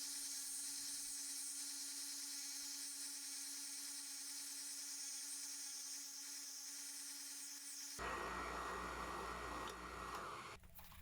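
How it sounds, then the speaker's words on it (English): Power sander smoothing a wooden handle, a steady high whine that holds throughout and turns rougher and louder near the end. "is to sand the handle smooth"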